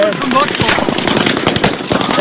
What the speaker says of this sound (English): There's gunshots coming from over there!